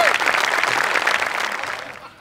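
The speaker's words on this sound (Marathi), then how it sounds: "जोरदार टाळ्या." Loud applause from a live comedy show audience at a Marathi award segment, steady dense clapping throughout that fades slightly at the end.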